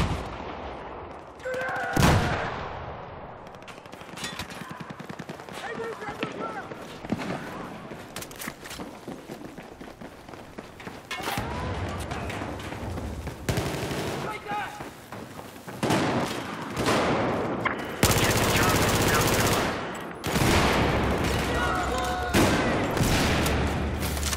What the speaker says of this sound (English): he's using the first fucking shotgun you get